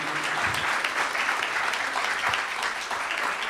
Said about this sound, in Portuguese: Vamos aplaudir o nosso rei.